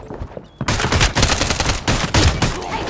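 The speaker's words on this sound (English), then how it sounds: "Hey, soldier! Weapons fire!" Rapid bursts of gunfire in Warzone, loud and close, erupting after a brief quiet moment and continuing in dense volleys with sharp individual shots throughout.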